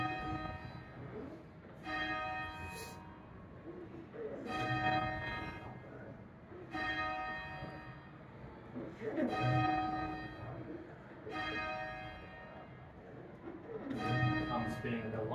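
A church tower bell rung by pulling its rope sounds repeatedly, each full resonant strike ringing out about every two and a half seconds, with a person talking over the ringing.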